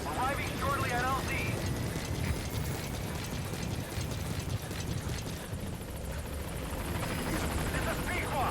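A helicopter arriving at a landing zone in a Metal Gear video game, its rotor and engine whirring steadily under radio-style chatter and a voice speaking over it.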